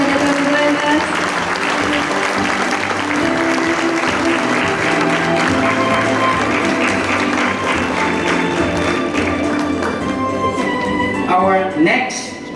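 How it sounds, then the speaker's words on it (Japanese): An award-ceremony audience at the 2017 World Photographic Cup gives sustained, dense applause for medalists and finalists that holds steady for several seconds before tapering, with faint speech under the clapping. "大きな拍手をお願いいたします"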